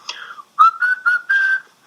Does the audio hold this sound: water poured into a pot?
no